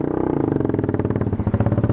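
A 2003 Honda 919 Hornet motorcycle is ridden, with a steady pulsing engine drone and throttle rising slightly toward the end, loud and close throughout.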